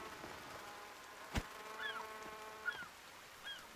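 Seagulls in The Forest survival game give faint, distant honking cries, a few separate calls spread over a quiet background, with one sharper thump between them.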